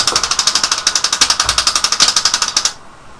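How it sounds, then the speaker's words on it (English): A fischertechnik model gear turns freely, giving a loud, rapid and steady train of mechanical clicks for nearly three seconds before it abruptly stops, heard alone without any talk. "here's a gear going without anything happening"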